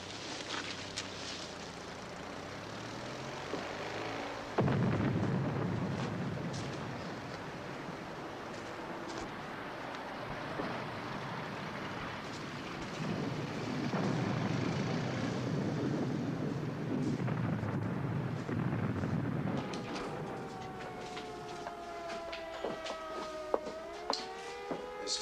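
A World War II air raid in a war film: heavy droning rumble of bombers with sudden bursts of distant gunfire, then a wailing siren rising and falling near the end, with no voices.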